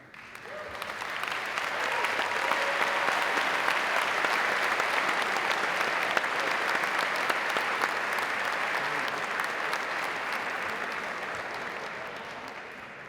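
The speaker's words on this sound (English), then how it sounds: "so that we can applaud for you" A large audience at an executive MBA graduation ceremony gives sustained applause that swells and holds as a dense, even wash of clapping, then slowly fades toward the end.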